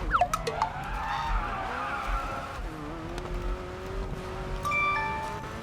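A McLaren 720S in the mobile racing game Racing Master, tires squealing in a long sliding skid through a corner over a steady engine drone, with a second shorter squeal near the end.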